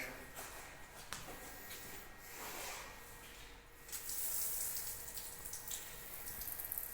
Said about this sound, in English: I have to open the water, the cooling water.